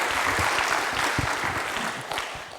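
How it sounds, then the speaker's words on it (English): Warm audience applause at a EuroPython conference talk, steady dense clapping from a crowd in a lecture hall lasting a few seconds. "Give him a very warm round of applause"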